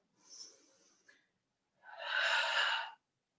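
A person breathes in and out during Pilates exercise: a short, airy inhale, then after a pause a longer, fuller breathy exhale, both close and clear.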